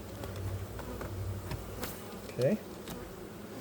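Honeybees buzz around a hive feeder near the sugar-water frames, a low steady drone with one closer bee passing briefly, while a person handles equipment and says a single word.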